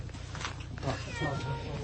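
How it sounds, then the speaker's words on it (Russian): A cat meows softly during the evacuation of a family with their animals, faint and close, over low background noise. "Ось кішка. Одна кішка."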